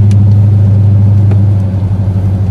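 A car driven normally in Drive, with no extra throttle, gives a loud, steady low engine drone and rumble heard close from inside the cabin.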